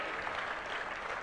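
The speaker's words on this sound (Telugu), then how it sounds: "గట్టిగా చప్పట్లు కొట్టి అభినందించాలి" Officials at a government review meeting chaired by Chief Minister Chandrababu Naidu clap together, a soft, even patter of applause heard from a distance, with no voices over it.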